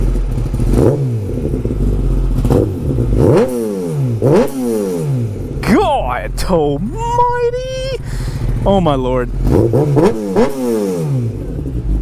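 A Kawasaki ZX10 sport bike with a Graves full exhaust system and Graves tune revs hard through repeated rising blips, snarling up high before it settles, and someone shouts exclamations between revs.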